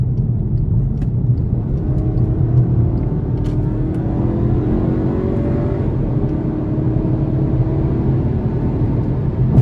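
A 2022 Volkswagen Passat SE with a 174 hp turbocharged four-cylinder pulls hard under acceleration, a loud continuous engine drone rising steadily in pitch, heard from inside the cabin with no talking.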